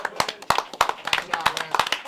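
Scattered hand claps from players around a live poker table in a card room, a short irregular burst of sharp slaps mixed with table chatter and background talk.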